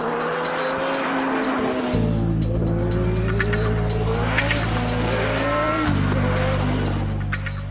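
A Ford RS200 rally car roars loudly up through its gears with tire squeal, the engine pitch climbing and dropping across two sharp gear changes, close and continuous with no talk.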